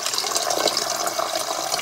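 Heavily carbonated water fizzes steadily, a dense, continuous hiss of popping bubbles at close range, with no talking.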